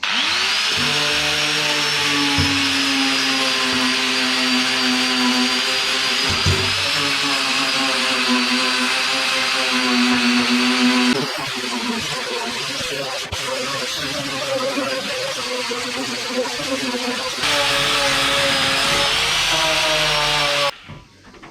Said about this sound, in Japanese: このさすがにこうただれてるところはちょっと削ってみようか